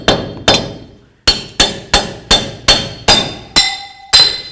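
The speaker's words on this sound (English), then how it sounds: "To do that, I like to use a hammer, a screwdriver" A hammer strikes a screwdriver sharply about nine times, each metallic clank ringing out, while denting the hub cap on a 2003–2009 Toyota 4Runner front wheel hub; no talking.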